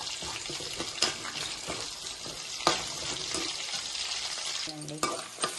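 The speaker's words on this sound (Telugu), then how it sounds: "ఇంకా ఈ విధంగా వేగేస్తున్నాయి చూసారా" Steady crackling sizzle of peanuts and green chilies frying in hot oil, with occasional sharp clinks of a spoon stirring against the pan.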